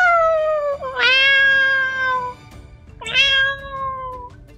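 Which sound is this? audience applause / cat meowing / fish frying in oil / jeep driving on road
cat meowing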